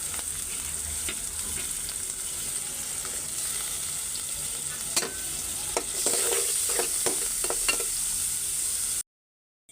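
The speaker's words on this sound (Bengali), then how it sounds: "এখানে কতগুলি আলু কিউব করে কাইটা নিচ্ছি এর দিয়ে দিই ভাজা ফেলাবো" Cubed potatoes frying with onions in a pan: a constant soft sizzle with a run of close spatula scrapes and clinks in the latter half, ending abruptly in silence.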